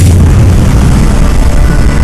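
A deep, sustained explosion rumble used as a supernova effect, loud and dense throughout with heavy low-end roar and no distinct onset or decay, alone without voices.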